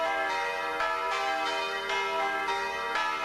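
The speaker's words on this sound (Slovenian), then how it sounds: "Tako kot kravji zvonci, imajo tudi zvonovi v notranjosti v vrhu vpet kembelj, ki z udarjanjem na obod zvona ustvarja zvok." Church bells ring in a steady, loud, overlapping peal, struck roughly every half second with long resonant tones sustaining between strikes.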